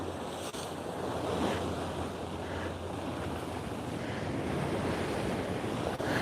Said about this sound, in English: This is just regular, just really soft, wide, kind of heavy waves